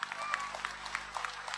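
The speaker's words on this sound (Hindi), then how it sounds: "ताली की आवाज पूरे झारखंड तक पहुंचनी चाहिए।" An indoor audience at a public gathering in Jharkhand claps in scattered, uneven bursts, moderately loud, with a faint hum underneath and no clear speech.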